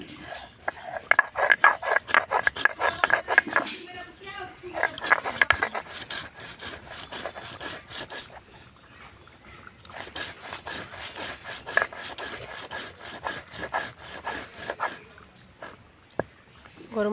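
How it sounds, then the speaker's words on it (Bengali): Whole garam masala spices are ground by hand on a stone for a Bengali meat curry, making repeated rough scraping and rubbing strokes in uneven bursts, with short pauses between runs. "গরম মশলাটা বাটা হয়ে গেছে"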